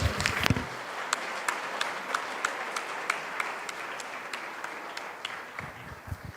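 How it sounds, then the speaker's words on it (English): An audience gives a round of applause to panelists after a panel discussion at Ahmedabad Design Week, Karnavati University. The clapping is steady, moderately distant and sustained, with a brief louder burst at the start and the end. "Let us give them a huge round of applause."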